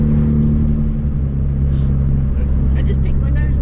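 Austin Metro engine accelerating on the road, a loud low rumble heard from inside the car, with a voice talking over it.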